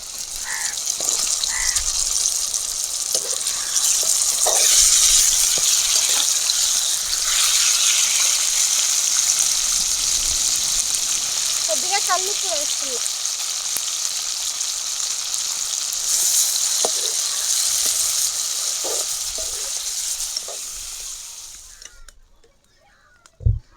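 Drumsticks go into a simmering tomato and onion curry for an egg and drumstick stew, giving a steady bubbling sizzle with faint stirring and small clinks throughout that cuts off near the end.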